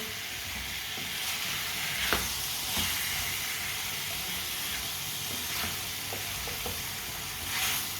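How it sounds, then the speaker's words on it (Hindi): Turnips cook in a pan with a continuous sizzling hiss, occasionally broken by soft scraping and clinks as a spoon stirs them, close and steady throughout. "अब इसे 3 मिनट के लिए पका लेते हैं चम्मच चलाते हुए।"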